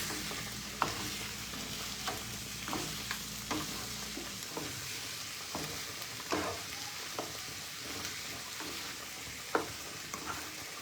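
Pork with oregano, basil, garlic, onion, salt and pepper cooks in a pan, a steady close sizzle broken by scattered clicks and scrapes of stirring, with a low hum in the first few seconds and no talk.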